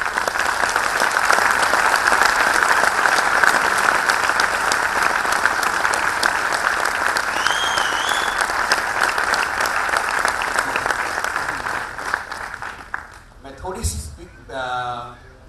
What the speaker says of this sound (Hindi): जोरदार तालियों से इस पावन नगरी को और डीएचएल को उसकी शुरुआत को